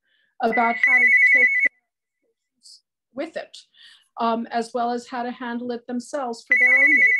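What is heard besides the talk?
phone ringing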